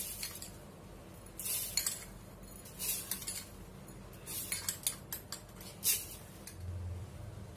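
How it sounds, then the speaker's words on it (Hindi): Sugar spooned into a blending jar of Parle-G biscuits for mango ice cream, heard as a series of light metallic spoon clinks and taps against the jar, spaced irregularly over quiet room background. "और अब इसमें हम ये 6 चम्मच शक्कर डालते हैं।"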